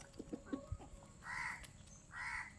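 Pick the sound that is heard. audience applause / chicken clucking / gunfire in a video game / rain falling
chicken clucking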